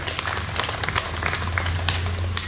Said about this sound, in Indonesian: Sekali lagi tepuk tangan dulu buat GG Mart ini.